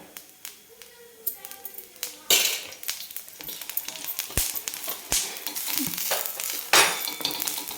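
Coriander seeds and cumin roasting in oil in a pan over a low flame, with a steady close sizzle broken by sharp clinks and scrapes of a spoon stirring, growing busier as it goes.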